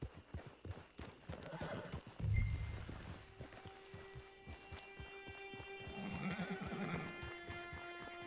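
In Red Dead Redemption 2 Online, a horse clip-clops at a walk with a steady patter of hooves, then gives a loud, close neigh partway through, while soft ambient tones hang in the background.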